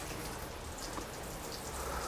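Water sprayed across a horizontal waxed car panel, a steady fine patter of droplets hissing evenly on the surface, close and continuous with no voices.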